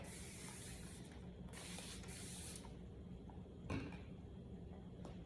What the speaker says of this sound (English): we're gonna go back over one more time with setting spray